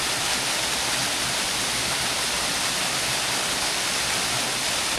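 A waterfall roars in a constant, dense rush of white water. It is loud and unbroken for the whole stretch, with no voices over it.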